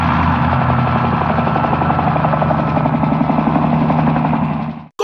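A helicopter sounds steadily for about five seconds, with a continuous rotor chop and engine drone, fairly loud and close, cutting off abruptly at the end.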